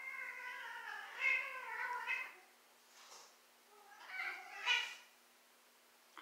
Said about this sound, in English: I'm sorry if you guys can hear the background noise. It's my cats.